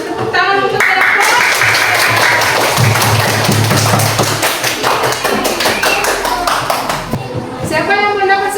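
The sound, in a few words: children applauding a group in class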